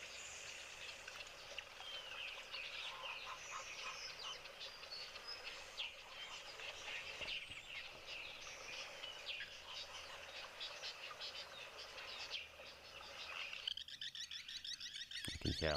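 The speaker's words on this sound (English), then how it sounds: "It's a southern masked weaver from the sounds of it." Southern masked weaver chatter mixes with insect buzz and other birdsong in an outdoor natural setting, a steady dense chorus of chirps and trills at moderate distance with no talking.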